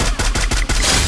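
Rapid automatic gunfire from a shooter video game rattles out in about five close, loud bursts in quick succession, with no talking.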